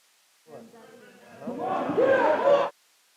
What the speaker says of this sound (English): Crowd really getting around here